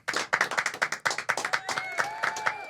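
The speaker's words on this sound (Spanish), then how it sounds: "Un aplauso para nuestro invitado" Audience clapping for a guest at a talk or panel event, a burst of sharp individual claps in a quick uneven rhythm, fairly close and lively, with no voices over it.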